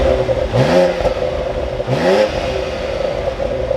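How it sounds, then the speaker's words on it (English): A 2024 BMW X4 M engine idles, then gets two quick blips of the throttle about a second apart, each rising sharply and settling back to a steady hum, close and loud with no talking. "let's fire this up and we can take a listen to that exhaust."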